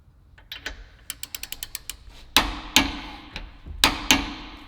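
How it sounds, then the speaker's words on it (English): Tightening the 22 mm ball joint bolt on a GTR front lower control arm with solid bushings, a run of quick ratcheting clicks followed by several louder metallic clacks and knocks, close by with no talking. "We're gonna torque that down to 74 foot-pounds."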